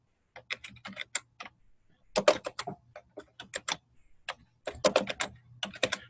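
Fingers tapping on a computer keyboard while typing a full name into a signature field, coming in three quick clusters of crisp clicks separated by short pauses, close and fairly quiet.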